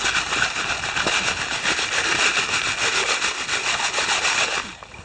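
Gravel shaken hard in a gold sluicing screen set over a bucket at a creek, a steady, dense rattling scrape that runs close and loud without pause and eases off near the end.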